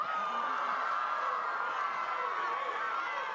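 Crowd noise from spectators at a women's rugby match between USA and Canada, a steady broad roar of cheering held at even loudness throughout, with no clear voices rising above it.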